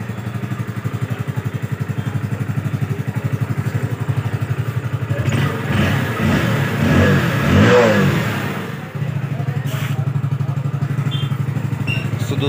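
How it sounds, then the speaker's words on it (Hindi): A Hero Splendor Plus BS6 motorcycle, repaired after an ECM fault and a fuel pump that was not working, idles with a steady close thumping. It revs up loudly for a few seconds, then settles back to a steady idle. "और अब आप लोग देख सकते हैं बाइक बिल्कुल एकदम स्टार्ट हो चुकी है।"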